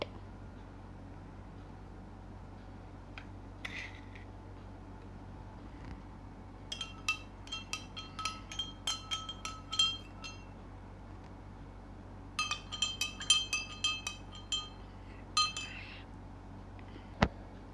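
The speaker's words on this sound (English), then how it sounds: "and we will mix it in the glass" A metal spoon clinks against a glass while stirring sugar and salt into homemade lemonade, two bursts of quick, bright, irregular taps at close range with quiet pauses between.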